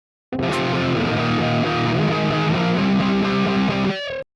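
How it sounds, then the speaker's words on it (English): An electric guitar played through a Quad Cortex with straight distortion turned up to 10 rings out as one loud, sustained, heavily saturated chord, cutting off abruptly near the end. "We're going to go straight distortion, and we're going to try putting that up to 10."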